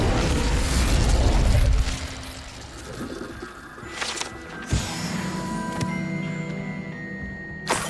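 A fire spell cast in Hogwarts Legacy: a loud roaring whoosh of flame for about two seconds, followed by quieter crackles, a sharp pop and lingering magical ringing tones.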